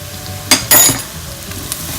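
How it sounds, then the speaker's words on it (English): Salmon curry with curry powder fries in a pan with a continuous low sizzle. Two sharp scraping bursts of stirring come close together early on, and a fainter one follows later. "I'm going to fry this for maybe 2 to 3 minutes"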